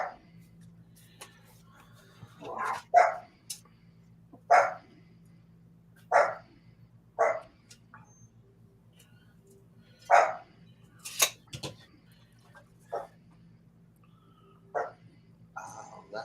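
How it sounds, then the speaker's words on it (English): Dogs barking in scattered single and double barks over a steady low hum, some nearer and louder, others fainter, with a few sharp yips and gaps of quiet between. "Oh, dogs."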